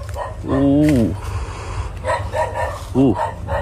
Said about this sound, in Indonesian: Ada anjing menggonggong nih